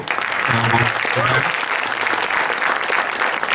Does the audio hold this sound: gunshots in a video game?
no